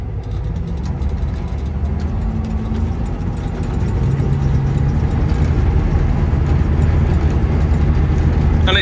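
A harvest machine's engine runs steadily at close range, a low rumbling drone that builds slightly louder and rougher partway through as it is revved, with no talking.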